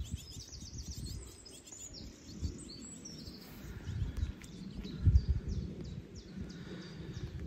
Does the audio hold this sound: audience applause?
no